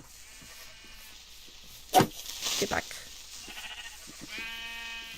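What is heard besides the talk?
sheep bleating, from video game Minecraft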